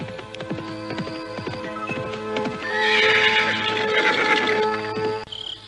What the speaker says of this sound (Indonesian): seekor kuda dari arah depannya